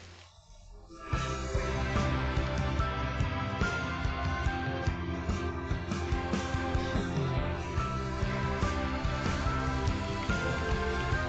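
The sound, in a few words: rain in Shanghai heard over the phone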